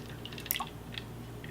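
Homemade eggnog spiked with spiced rum poured into a glass, heard as a few soft, brief liquid drips and splashes close by over a low steady room hum, with no talking.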